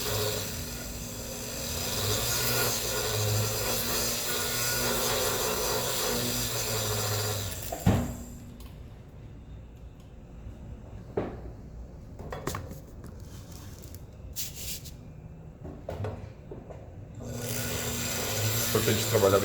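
Sandpaper rasps against the inside of a metal ring being resized at a jeweller's bench, first as a steady, continuous scraping, then as shorter, irregular strokes.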